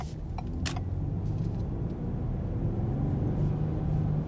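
Hybrid powertrain of a 2021 Ford Explorer Limited Hybrid accelerating under throttle, heard from inside as a steady low engine and road rumble that holds even and smooth throughout, with a few faint clicks early on.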